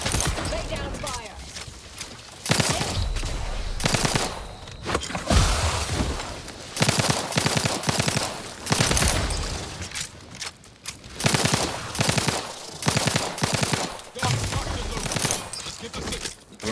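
Gunfire in the video game The Outer Worlds 2, rapid bursts of shots and impacts repeating across the clip, with game dialogue and voices over the top.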